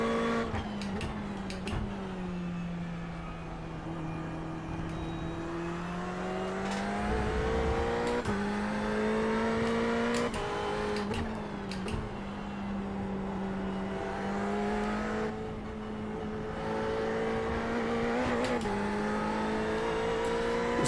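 Sim racing car engine in an online racing league game, a steady loud drone with rising and falling revs over about twenty seconds, the tone shifting through gear changes with brief dips, heard continuously without speech.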